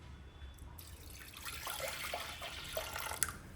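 Water poured into a pot of dal while cooking dal dhokli, a faint steady splashing and trickling stream with a few small drips and clinks, no talk.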